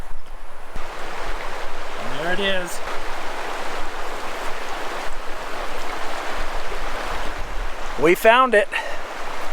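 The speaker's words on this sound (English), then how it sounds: "Can you hear that river?" River fed by a mountain spring, flowing as a continuous broad rushing wash throughout, with people speaking briefly over it now and then.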